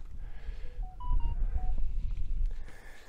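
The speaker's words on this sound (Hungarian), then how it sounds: "Mindenféle telefonos értesítések jönnek közbe" A quick run of short electronic phone notification tones at a few different pitches chirps in over low outdoor rumble and wind at a terraced hillside site in Tenerife, then fades back to background noise.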